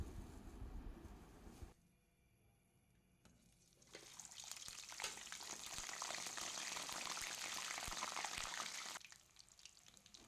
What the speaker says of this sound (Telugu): అవి ఆయిల్లో డీప్ ఫ్రై చేస్తున్నాము